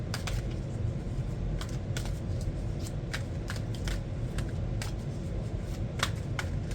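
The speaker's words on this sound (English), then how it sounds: "Let's draw from the Tarot and see what we're looking at." Tarot cards are shuffled close up, with a continuous riffling, papery flutter broken by sharper snaps and flicks as cards are cut and drawn.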